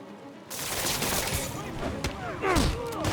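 Rapid bursts of gunfire fill a fight in the Spider-Man Remastered video game, dense and sustained over a steady background, with a voice talking over part of it.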